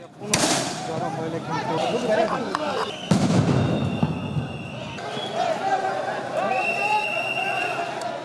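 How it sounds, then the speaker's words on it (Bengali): Police fire sound grenades and rubber bullets to disperse protesters during a street clash in Bangladesh, July 2024: a sharp loud bang near the start and another midway ring out over a constant roar of crowd noise and shouting. "পুলিশ আন্দোলনকারীদের ছত্রভঙ্গ করতে সাউন্ড গ্রেনেড ও রাবার বুলেট নিক্ষেপ করে"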